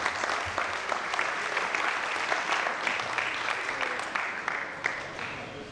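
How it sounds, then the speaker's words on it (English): Audience applause fills an auditorium at a college award ceremony, steady dense clapping throughout at close range with no speech over it. "Give her a big round of applause."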